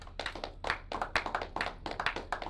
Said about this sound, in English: So let's give the Most High a round of applause.